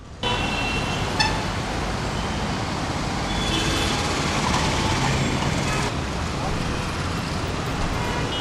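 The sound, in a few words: truck speeding past on road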